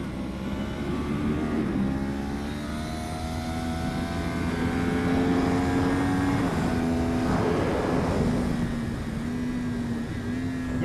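A car engine accelerating hard during a driving session, its tone climbing steadily through the gears with a rising droning pitch, loud and close from inside the cabin for several seconds with no talk.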